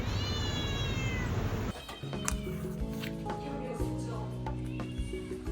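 A cat meows in a drawn-out, pitched cry near the start, followed by clattering and tonal noises in a busy indoor space in Guilin, China.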